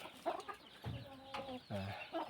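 Small Thai game fowl rooster of about two kilos, clucking in several short throaty bursts at close range, with no other sound over it.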